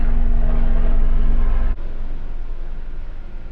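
A loud, low, rumbling drone of a helicopter passing overhead near an airport, a strong steady throb that drops off sharply partway through and continues as a softer broadband roar.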